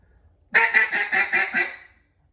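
A handheld duck call blows a quick descending run of about six raspy quacks in imitation of a hen mallard, loud and close, with no talk over it.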